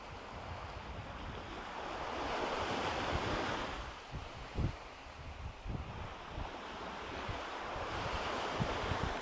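Sea waves roll onto a sandy shore in gentle, recurring surges, with wind buffeting the microphone and no voices heard.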